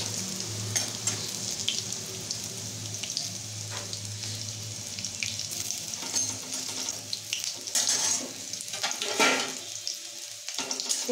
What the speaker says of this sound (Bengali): এবার এটা হয়ে যাওয়াতে জিরে হয়ে গেছে, এবার হিং দিয়ে দিলাম।